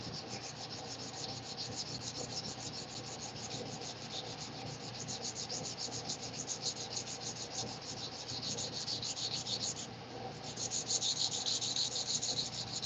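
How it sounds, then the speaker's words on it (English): Steady rhythmic hand sanding of steel with 320-grit abrasive, a close, continuous rasping stroke that brightens slightly near the end, with no talk over it. "when you're sanding, the abrasion kind of stops and it gets slipperier against the steel"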